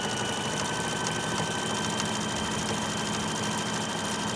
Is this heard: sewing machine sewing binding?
yes